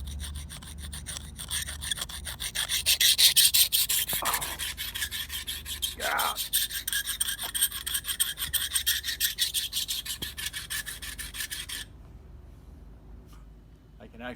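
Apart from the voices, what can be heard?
Buck knife edge being dulled by rubbing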